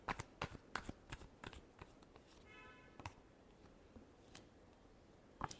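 Tarot cards are shuffled by hand in quick, crisp bursts of riffling and slapping, faint and close, with brief pauses between.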